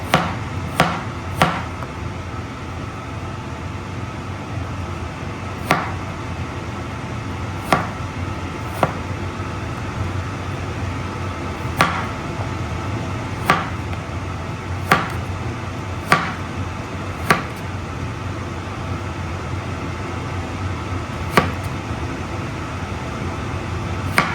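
Knife slicing bottle gourd into thin pieces on a board, sharp irregular cutting taps spread across the span over a steady fan-like background hum.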